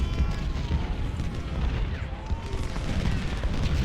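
Distant cannon and artillery fire from the Civil War strategy game Ultimate General: Civil War, a continuous low rumbling barrage of booms with scattered shots, steady and fairly loud, no talking.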